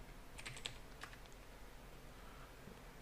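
A few quick keystrokes on a computer keyboard, faint and close, clustered near the start with a couple of scattered taps afterward, over a low background hum with no voices.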